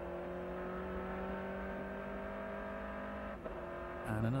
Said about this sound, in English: Got a 360 Modena that he passes now.